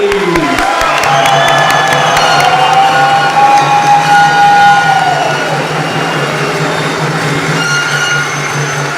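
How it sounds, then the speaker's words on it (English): Audience at an Air National Guard awards ceremony in Hawaii cheers and applauds for NCO of the Year nominees, a loud, dense crowd roar holding steady for several seconds with a sustained whistle-like tone riding over it. "Please join me in a round of applause for all of our NCOs of the Year nominees"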